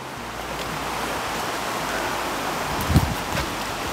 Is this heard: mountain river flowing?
yes